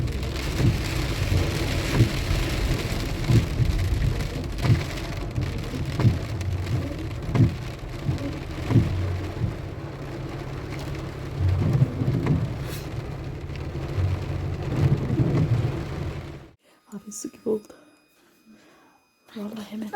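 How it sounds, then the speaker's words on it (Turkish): Heavy rain pours down in a dense, continuous roar with occasional low rumbles, then cuts off abruptly near the end, leaving scattered quieter sounds. "Yağmur nasıl yağıyor bak? Sanki boşaltıyorlar."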